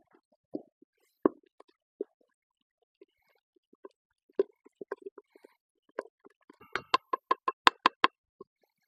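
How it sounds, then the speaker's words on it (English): A wooden spoon stirs and squishes yeast roll dough in a bowl, making scattered soft wet plops and knocks that quicken into a burst of rapid thuds near the end, close and otherwise quiet. "I'm using a wooden spoon to kind of smush everything around, get it all kind of stirred up"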